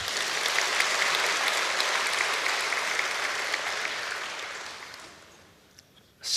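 A church congregation breaks into loud, steady applause that fills the room, then thins out and fades almost to silence near the end.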